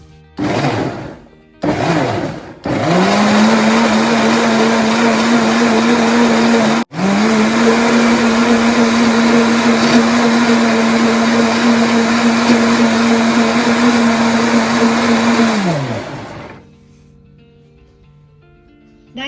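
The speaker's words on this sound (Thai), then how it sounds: "แล้วเราก็ทำการปั่นให้ข้าวนะคะ เนียนเลยค่ะ" An electric blender whirs steadily while grinding soaked rice with water, starting in two short pulses before a long loud continuous run with one brief interruption, then winding down to quiet; no talking is heard.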